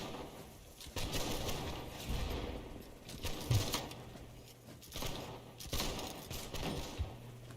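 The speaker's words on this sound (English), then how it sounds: "They're firing at us a lot." Musket fire in the battlefield game Holdfast: Nations at War, scattered distant volleys and single shots popping irregularly over a busy ambient backdrop, with no voices.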